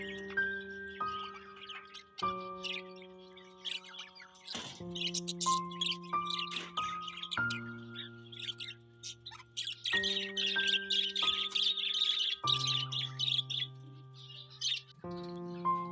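Cockatiels chirp and tweet while bathing in water, bright bird calls scattered throughout over a layer of sustained tonal background sounds.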